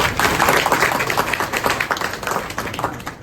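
A room of office staff at a regional transport headquarters bursts into loud, dense clapping for a newly arrived executive director, sustained and close for several seconds.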